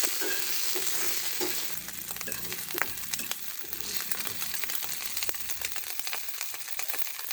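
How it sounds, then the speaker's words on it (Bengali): Shrimp fry hard in a pan with a steady, close hiss and crackle of hot oil, broken by a few sharper pops and scrapes. "চিংড়ি মাছ আমি একটু শক্ত করে ভেজে নেব।"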